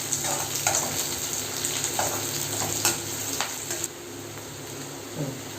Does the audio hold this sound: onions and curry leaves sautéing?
yes